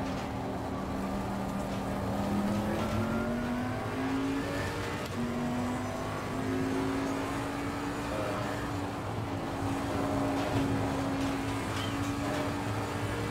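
Race car engines in Assetto Corsa Competizione roar continuously through a GT race, with steady high-pitched drones rising and shifting as cars accelerate in close traffic, an AMG among them, with no talking.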